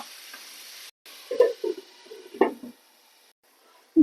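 Paneer mutter masala stirred in a pan, a few soft scraping and squelching strokes of the spoon against a faint background hiss, with short pauses between strokes.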